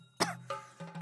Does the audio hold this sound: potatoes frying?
no